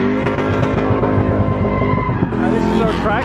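A drift car slides around a desert skid pad with a sustained, loud tire squeal over a strained engine, steady and close, running the whole time.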